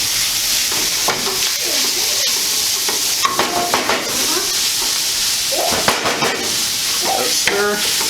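Steady sizzling of Italian pork sausage frying in a pan, with scraping and clinking as it is stirred, continuous and close.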